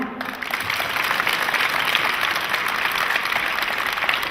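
Steady applause from a school crowd, dense clapping that fills the whole stretch at an even, fairly loud level.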